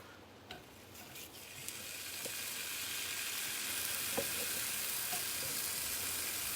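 Small bacon pieces frying in a pan with no added oil, a soft continuous sizzle that builds slightly, with a few light clicks and taps early on.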